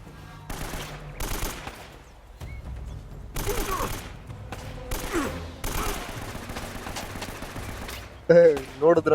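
Enemy gunfire in the video game Uncharted: Drake's Fortune comes in bursts of shots spread across the stretch, broken by short gaps, with a voice talking over parts of it and a loud burst near the end.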